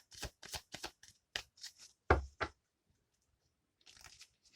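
Tarot cards shuffled in a run of short crisp riffles and snaps, then a pause and a softer rustle of cards.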